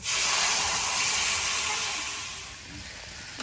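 Vegetables dropped into hot mustard oil in a wok after mango pieces, a loud broad sizzling hiss that swells at once and slowly fades over a few seconds.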